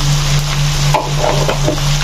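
Tomatoes, cashews and half a teaspoon of turmeric frying in a pan, a steady close sizzle with a few soft stirring scrapes and a low constant hum underneath, no talking.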